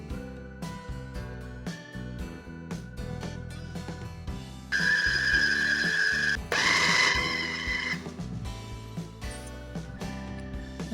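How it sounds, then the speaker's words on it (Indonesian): Electric food chopper blends a mackerel fish mixture for siomay in two loud whirring bursts, set among quieter clattering and tapping sounds. "ini akan aku chop semuanya hingga tercampur rata"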